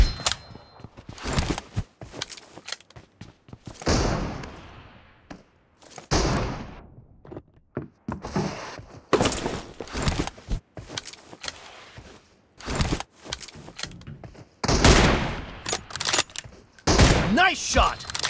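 Gunfire in the mobile battle-royale game PUBG Mobile, sharp bursts and single shots in irregular clusters, loud and close, with game voices and talk in between.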